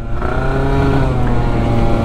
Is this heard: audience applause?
no